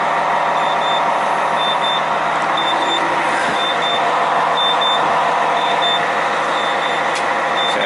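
A parked bus's reversing alarm beeps steadily in a repeating pattern while the bus sits idling and waits for its air pressure to build, all over a loud, constant engine rumble.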